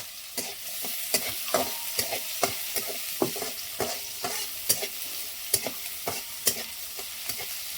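Onion fries in oil with browned garlic in a pan, a quiet sizzle broken by regular rhythmic scrapes of a spoon stirring, about one every half second, close and unaccompanied by talk.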